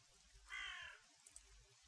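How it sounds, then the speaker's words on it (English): A single crow caw, harsh and fairly loud against a quiet background, from the video game Nightmare Frames. "You have no intention of disturbing the crow, although it wouldn't hurt if it stopped cawing so frequently."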